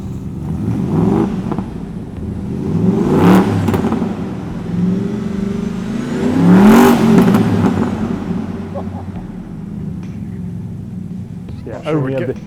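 A Morgan car with a BMW engine and slash-cut exhaust pipes revs in two loud, close bursts that then fall to a rumbling idle, with people talking over it.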